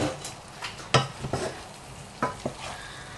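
Boiled cauliflower frying in a pan with potatoes and shrimp, a soft steady sizzle broken by a few distinct scraping stirs, close by and without talk.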